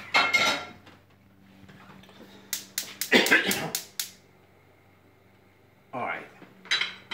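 Pots and pans clank onto a kitchen stove while pasta with peas is being cooked, a burst of metallic knocks and clinks mid-clip with softer handling noises around it, close and fairly loud, with a person talking in between.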